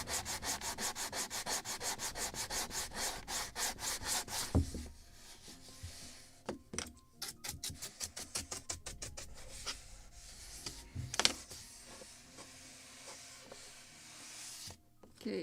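Close, steady rubbing of 320-grit sandpaper polishing the wooden hull of a model 1776 gunboat, fast back-and-forth strokes at first, then shorter, lighter passes with brief pauses and small knocks.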